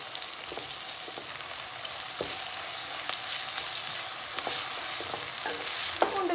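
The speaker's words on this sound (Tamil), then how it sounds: "இதோட பச்சை வாசனை போகிற வரைக்கும் நல்லா வதக்கி எடுத்துக்கலாம்." Ginger garlic paste is sautéed in a pan for a chicken dish: a steady, fairly loud sizzle runs throughout, with scattered sharp scrapes and clicks from a spoon moving the paste.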